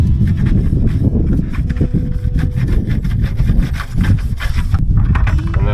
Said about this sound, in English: you just take a regular toilet brush, just like you would probably at home, and you clean out the bucket. Scrub the sides.